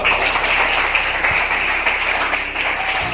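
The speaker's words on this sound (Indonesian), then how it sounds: "Tepuk tangan dulu." Schoolchildren in a classroom clap together, a loud, continuous patter of many small hands with a few sharper individual claps standing out.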